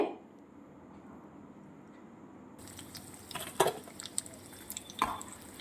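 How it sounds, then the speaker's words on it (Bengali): Fried prawn cutlets being lifted out of hot oil with a metal strainer: a soft oil hiss, then a few sharp metallic clinks and scrapes with dripping, close by and without speech. "এখন একটা ছাঁকনির সাহায্যে আমি তেল ঝরিয়ে এগুলো তুলে নেব"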